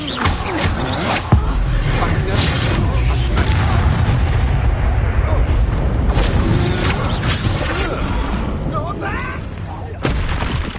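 An Incendio fire spell blasting in the game Hogwarts Legacy, a loud, dense roar of crackling and booming combat effects sustained throughout, with sharp impacts near the start and end and a voice speaking amid the din.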